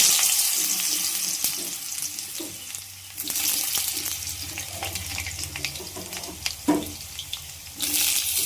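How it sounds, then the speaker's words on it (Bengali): Potato pieces fry in hot oil, a close, steady sizzle and crackle that runs throughout with a few louder spits and stirring clatters, and no voices. "এই যে আলুটা ভেজে নিচ্ছি এখন।"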